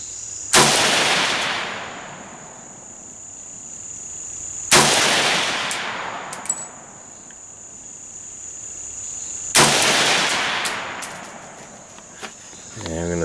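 An AK-47 assault rifle fires three single shots at a target, several seconds apart, each a loud crack followed by a long rolling echo, with a steady high insect-like whine continuing throughout.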